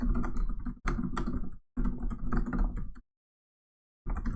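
Someone types on a computer keyboard in quick bursts of clicky keystrokes, with a short pause and then a full second of silence before the typing resumes.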